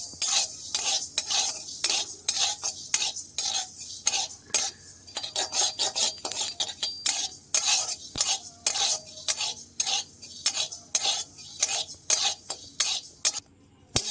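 Spices for a raw mango pickle are stirred in a pan, a spoon scraping and clinking against the metal in a brisk, steady rhythm with a faint sizzle beneath, close and without speech.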